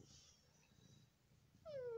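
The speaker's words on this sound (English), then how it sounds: "Kitty, make some more sounds" A short, faint meow from a cat rises at the very end after a quiet stretch of low background noise.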